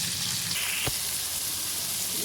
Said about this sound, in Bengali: ভাজা ভাজা হতে থাক